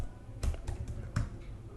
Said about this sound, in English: here I'll start typing my code